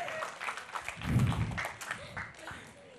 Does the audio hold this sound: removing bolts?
no